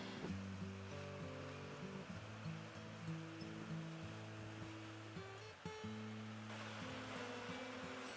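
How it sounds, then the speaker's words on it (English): Ocean waves break and wash in with a steady roar of surf, a fresh surge building near the end. "Shows an incoming wave."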